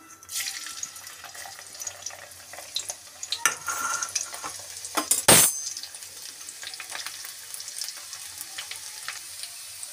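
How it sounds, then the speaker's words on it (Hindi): Garlic dropped into hot oil in a kadhai sizzles and crackles softly and steadily, with a sharp spatter burst partway through and some light stirring clinks. "अब डाल देते लहसुन तेल गर्म हो गया हमारा"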